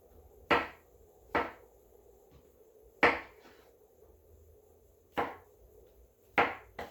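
A knife chops vegetables into half-inch pieces on a cutting board for mushroom barley soup. Five crisp, separate thwacks come at uneven intervals, close and clear against a quiet kitchen.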